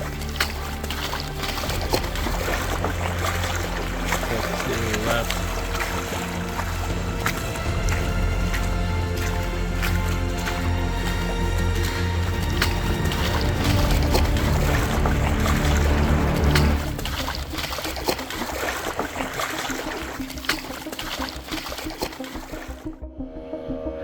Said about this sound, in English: We have to cross this river.